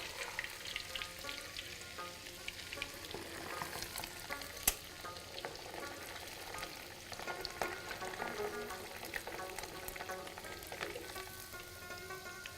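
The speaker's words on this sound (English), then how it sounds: "Ali, you're just dipping it in the hot oil?" Already-fried mutton chops dipped into very hot oil to crisp them, producing a steady faint crackling sizzle with a sharp pop partway through, close by and with no talking.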